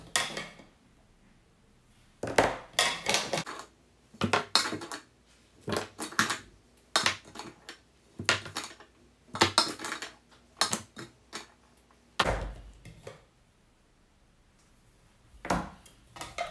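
Potatoes and felt-tip markers picked up and set down one at a time on a table for a preschool counting activity, giving a series of short, close knocks and clatters separated by brief quiet gaps.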